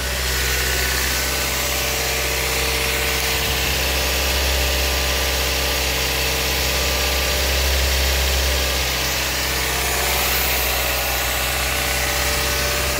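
A car engine idles after a cold start, running a car battery off a super capacitor; a loud, steady, close rumble with constant vibration throughout, no speech.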